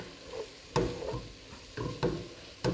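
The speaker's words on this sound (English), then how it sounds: "as I'm sauteing this, I'm kind of breaking it up" Ground turkey sautéing for chili, with a spatula scraping and breaking up the meat in a pan, giving soft sizzling broken by several distinct scraping stirs close by, with no talking.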